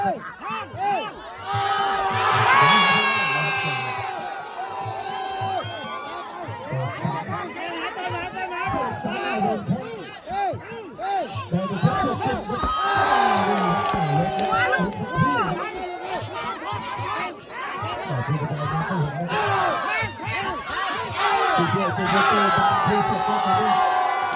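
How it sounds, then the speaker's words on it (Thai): Crowd at a children's Muay Thai boxing match cheering and shouting throughout, with loud chatter and whoops rising in waves, close and dense. "โอ้โหดูการเชียร์ครับ"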